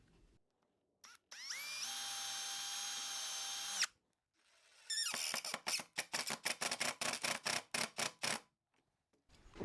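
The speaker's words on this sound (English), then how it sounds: "since cherry is a hardwood, I'll pre-drill the holes" A power drill pre-drilling holes in cherry hardwood whirs in a steady burst, pauses, then runs in a rapid series of short revving pulses, close and loud.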